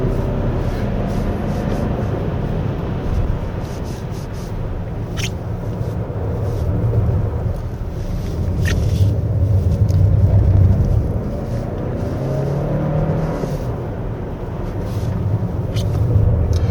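A Toyota Crown 2.4 Dual Boost Hybrid on a winding mountain road, heard from inside as a steady low engine and road rumble that swells and eases, with no talk.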